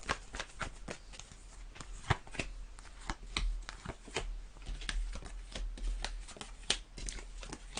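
A deck of tarot cards is shuffled by hand, giving a rapid run of crisp riffling flicks and soft slaps close by that continues throughout without speech.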